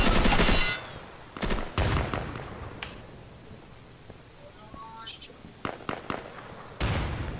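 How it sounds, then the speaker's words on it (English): Grenade blast and gunfire in a video game: several sharp, loud broadband bursts separated by quieter gaps, with players talking throughout. "That's a grenade, Misha."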